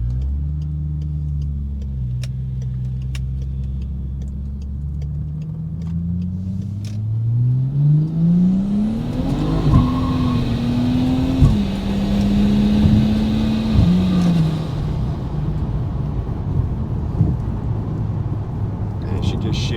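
A turbocharged car with an automatic transmission, its gearbox just repaired, accelerates hard enough to spin the wheels, heard from inside. Engine tone climbs steadily and drops at several distinct upshifts under steady road noise.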